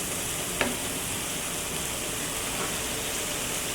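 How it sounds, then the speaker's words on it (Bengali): Marinated chicken pieces dropped into hot spiced oil for chicken tehari, giving a steady, dense sizzle with a brief clatter near the start. "এখন আমি মাংসগুলা এর মধ্যে দিয়ে দিই।"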